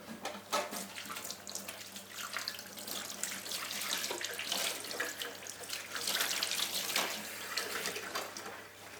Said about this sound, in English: Just going to rinse off the Wet-X